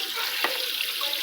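A Hippo Super Hippor 12kg washing machine filling with water, a steady hissing rush of inflowing water, close and continuous, with a brief splash-like burst partway through.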